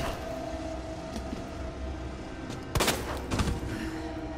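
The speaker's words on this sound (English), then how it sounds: "And that's four shots." Gunfire in the video game Resident Evil 2 Remake: two loud, sharp bursts of shots crack out about a second apart over a steady low game ambience.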